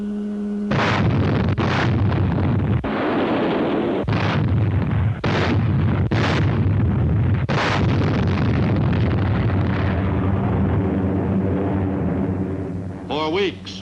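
Warships shell Kwajalein Atoll: heavy naval gunfire booms again and again at close range over a continuous rumbling din, and a narrator's voice speaks over the barrage.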